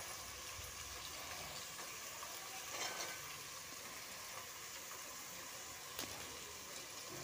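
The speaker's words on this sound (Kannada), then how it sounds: "ಎಲ್ಲ ತರಕಾರಿನೂ ಸೇರಿಸ್ಕೊಂಡಾದಮೇಲೆ ಸ್ವಲ್ಪ ಎಣ್ಣೆಯಲ್ಲಿ ಚೆನ್ನಾಗಿ ಫ್ರೈ ಆಗಲಿ." Chopped beetroot, carrot, peas and beans frying in oil in a pan, giving a steady, faint hiss and sizzle with an occasional soft crackle or clink.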